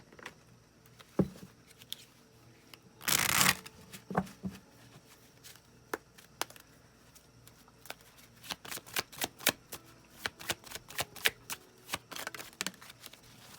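Tarot cards riffled and shuffled by hand, one loud dense burst near the start followed by many short sharp card snaps and taps, close up, with no talking.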